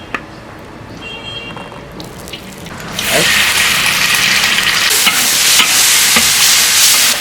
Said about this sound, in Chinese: 我们先加油，炒一点剁椒